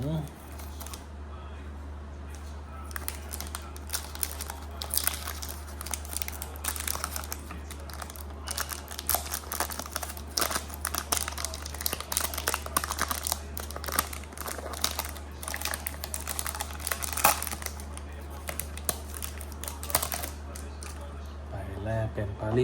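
Foil packs of 2021-22 Topps Chrome Match Attax UEFA trading cards being torn open and handled, a steady stream of close crinkling and rustling over a low constant hum, running throughout.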